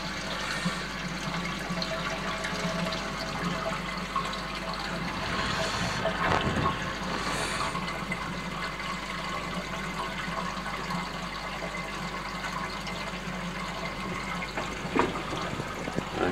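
Water runs steadily out of a koi pond's bottom drain after purging, a constant close rushing and gurgling flow with a few faint splashes and no talk.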